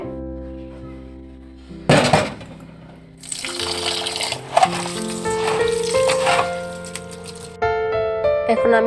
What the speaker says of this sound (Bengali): এখন আমি পোলাও চালটা ধুয়ে নেব ভালো করে